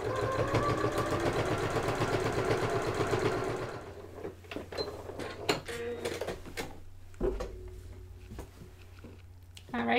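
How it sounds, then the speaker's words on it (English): Sewing machine stitching a pocket onto a placemat, running in a steady rapid buzz for about four seconds, then stopping and giving way to a few soft clicks and handling sounds. "When you come to this pocket, slow down and make sure that the pocket goes under the presser foot and doesn't get folded up."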